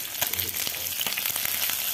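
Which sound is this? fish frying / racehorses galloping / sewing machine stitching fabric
fish frying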